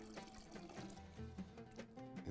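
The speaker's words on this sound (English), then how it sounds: "Drain off the water." Water drains off soaked rice in a home kitchen during machboos hammour preparation, a quiet trickle and splash with faint ringing tones, close by and low in level.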